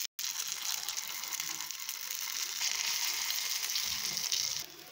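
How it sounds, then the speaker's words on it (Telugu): Dosa batter poured into the oiled cups of a paniyaram pan sets off a steady, close hiss of sizzling that swells slightly midway and stops abruptly at the end. "పిండి వేసుకుందాం. ఇట్లా అన్ని గుంటల్లో వేసుకుందాం."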